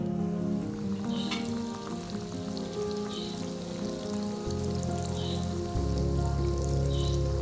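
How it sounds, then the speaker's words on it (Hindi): Homemade donuts frying one by one in hot oil, a steady close crackling sizzle with fine popping bubbles, continuous and fairly loud with a faint low hum beneath. "मेरा तेल गरम हो चुका है। अब ये जो मैंने डोनट बनाए हुए थे वो मैं इसमें एक एक करके सेकूंगी।"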